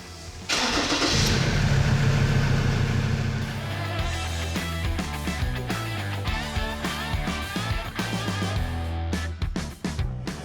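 A Ford Ranger's engine cranks and fires up after a transmission valve body install, a loud surge at start-up settling into a steady, rumbling mid-pitched idle with small fluctuations.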